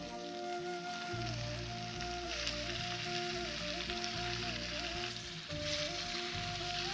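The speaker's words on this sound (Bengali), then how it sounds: "চিকেনগুলো ম্যারিনেট করে রাখা ছিল, তো এখন দিব" Marinated chicken and spice-coated potatoes fry in a small kadai, giving a faint, even sizzle that runs throughout beneath a steady tonal hum, with no voices.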